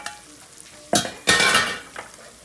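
Mutton biryani ingredients frying in a pot, a quiet sizzle then two close bursts of stirring and scraping as the mixture is turned, with a softer stir near the end.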